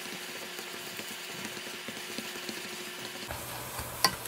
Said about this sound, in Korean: 물이 없는 상태인데 볶아주듯이 마구 볶아주세요.